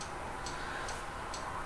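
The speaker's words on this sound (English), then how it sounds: "I apologize for the cuckoo clock in the background that's telling me that it's 6 o'clock." A cuckoo clock ticks steadily in the background, with a soft, regular tick-tock repeating about every half second over a faint hiss, and no voices.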